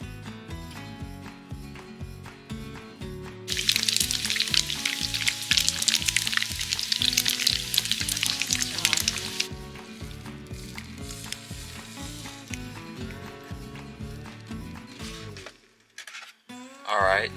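Breakfast frying in a pan at a Thanksgiving campsite, a steady sizzle that swells loud for several seconds, then settles to a softer crackle with clinks of utensils and possible faint voices.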